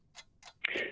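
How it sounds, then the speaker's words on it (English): A radio quiz show's countdown timer gives two soft ticks and then a brighter electronic tone. It is faint and heard alone, with no voices. "Obi, please start the clock."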